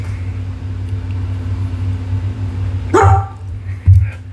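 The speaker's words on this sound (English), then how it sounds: "he'll continue to bark like this periodically for hours afterwards" A dog barking indoors: two or three short, loud woofs near the end of the clip over a steady low hum, fairly close, with no talking.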